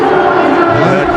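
A huge stadium crowd of around 120,000 cheering at the India vs New Zealand T20 World Cup cricket final, a dense, loud roar of voices that fills the whole moment.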